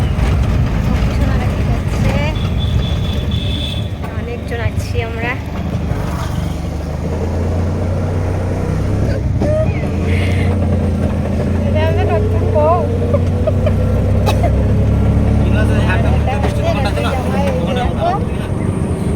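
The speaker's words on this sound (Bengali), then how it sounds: "আমরা এখন অটোতে যাচ্ছি।" Auto rickshaw ride along a road, with a steady engine drone and road rumble running throughout at close range, occasional horn-like tones, and people talking over it.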